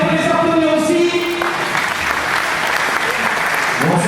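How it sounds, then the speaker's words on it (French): An audience applauds Arthur, Damien, Rémi and Gaël, with loud, sustained clapping; a voice speaks over the applause at the start, and the clapping continues after the talking stops. "on peut les applaudir aussi"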